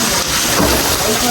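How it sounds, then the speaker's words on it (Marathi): Heavy rain pours down hard during a storm, a loud, dense, continuous hiss of water striking surfaces close by, filling the whole brief moment. "जोरात पाऊस चालू झालेला आहे"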